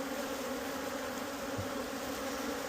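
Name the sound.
bees buzzing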